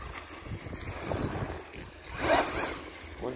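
An MJX Hyper Go 1/14 scale RC car drives through tall grass, giving a continuous rushing, swishing hiss of blades brushing the chassis, with a louder surge near the end and no voices.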